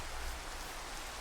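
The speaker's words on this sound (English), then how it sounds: "the sun is setting, and it's raining" Steady Minecraft rain hisses as an even, dense patter at sunset, a brief unbroken wash of falling drops with no voices.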